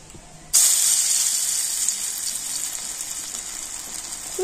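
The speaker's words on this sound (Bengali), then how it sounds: "এবারে আমি হাত দিয়ে এগুলো এরকম এরকম ছোট ছোট বড়ার মতো করে তেলের মধ্যে দিয়ে দেব" Spinach and chana dal fritters dropped into hot oil start a sudden loud, bright hiss of sizzling that carries on steadily and close, fading slightly over a few seconds, with no voices.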